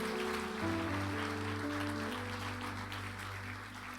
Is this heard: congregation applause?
yes